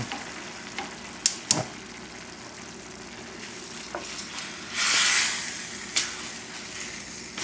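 Jasmine rice sizzles gently as it fries in a pan over a lowered flame, with scattered clicks and scrapes of stirring and one brief louder burst of hiss midway, steady and close.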